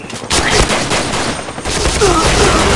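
Sustained automatic gunfire in the video game Point Blank, loud and continuous, a near-constant barrage with faint voices underneath.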